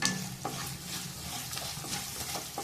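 An asafoetida tempering for lemon rice frying in a pan gives a close, steady sizzle with light crackles and gentle stirring, with no voices.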